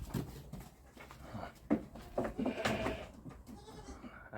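Saanen goats, first-time mothers, bleating in a farm pen, several overlapping calls near and mid-distance, with a faint voice in the background.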